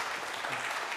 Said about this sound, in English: Should we give him a round of applause?